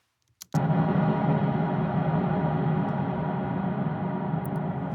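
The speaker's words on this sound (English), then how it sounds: "So I'm just smacking the bridge of the guitar through a massive reverb" A single sharp knock on a guitar's bridge, run through massive reverb, blooms into a huge, sustained reverberant wash that rings on like a gong, steady and loud until the end.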